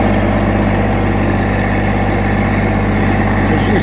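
A Massey Ferguson GC1710 sub-compact tractor engine runs steadily and loudly up close during a ride around a brushy lot being cleared, a constant low droning hum with no pauses.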